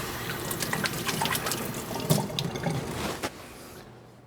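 Cold water runs from a kitchen tap into a pot to cover chicken for stock, a steady close splashing flow with a few drips that tails off at the end.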